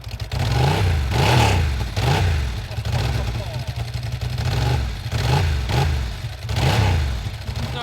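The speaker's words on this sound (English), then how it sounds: "No mistake in that dry clutch rattle, and that exhaust note is gorgeous." A Ducati 888 SP4 motorcycle engine idles with a dry clutch's rhythmic clattering rattle and pulsing exhaust, swelling in regular surges, with talk faintly mixed in.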